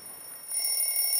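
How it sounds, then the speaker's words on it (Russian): An electronic alarm clock rings with a high, steady tone, getting louder partway through the brief ring. "Будильник с утра. Ра-ра, ра-ра."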